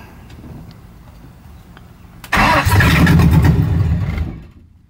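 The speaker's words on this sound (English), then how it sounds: "I'm just gonna test fire it, and if it fires, I'm just gonna shut it off." A New Edge Ford Mustang GT engine cranks and catches after a quiet stretch, then runs loud and rough for about two seconds before shutting off, with no talking.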